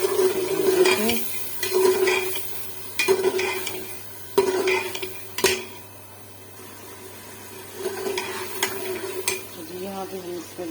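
Potatoes are stirred with a utensil in a pan of frying greens, a spinach and fenugreek saag. A spoon scrapes and clinks rhythmically against the metal over a low sizzle, with brief speech.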